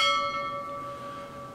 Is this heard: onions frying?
no